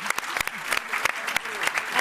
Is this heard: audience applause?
yes